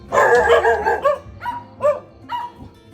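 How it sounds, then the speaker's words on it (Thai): A dog barks at arriving guests at a grandmother's rural home during a New Year celebration, giving one loud burst and then three shorter, spaced barks that turn into yips close by. "มี น้องหมามาเห่าต้อนรับนะครับ"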